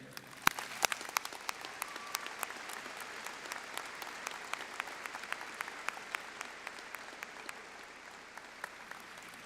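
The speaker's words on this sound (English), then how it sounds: "please join me in a heartfelt round of applause" Steady audience applause at a college commencement ceremony, a dense patter of many hands clapping from across a large hall, fairly distant and even throughout with no talking over it.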